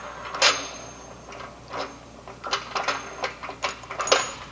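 Faint, scattered clicks and light rattles from hand knobs being unscrewed on the access hatch of a vacuum pump, a dozen or so small taps spread across a few seconds in a quiet room.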